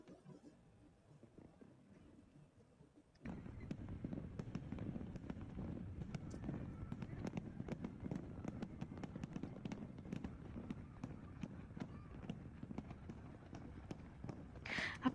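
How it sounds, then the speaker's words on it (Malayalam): A fireworks display at a night event in Qatar, heard faintly from a distance; after a quiet start, rapid crackling bursts and pops begin and continue in a dense, uneven stream. "നമ്മൾ ചെല്ലുമ്പോൾ തന്നെ അവിടെ വെടിക്കെട്ടൊക്കെ ഉണ്ട് കേട്ടോ"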